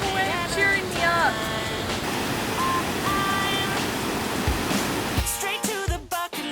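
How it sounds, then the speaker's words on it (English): Waterfall near a Lake Superior campsite, a steady broadband rush of falling water heard close, with a voice talking over it and clatter near the end. "Falls really have a way of cheering me up."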